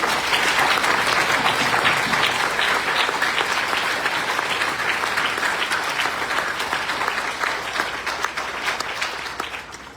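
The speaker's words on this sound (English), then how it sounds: "Let's give both of these gentlemen a round of applause." Sustained applause from an audience at a Lee County sheriff candidates forum, loud and steady for the full stretch and tapering only slightly toward the end.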